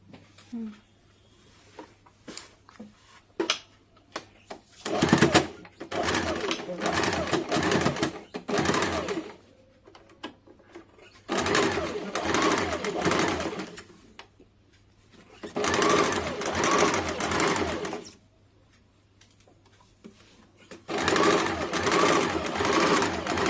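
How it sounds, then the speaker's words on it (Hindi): A sewing machine runs seams along both sides of a simple darted blouse in four separate long bursts of steady stitching, loud and close, with quiet pauses between them and a low constant hum throughout. "यहाँ से यहाँ तक एक सिलाई दोनों साइड चला लेंगे"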